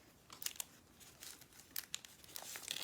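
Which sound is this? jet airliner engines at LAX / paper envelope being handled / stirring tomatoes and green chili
paper envelope being handled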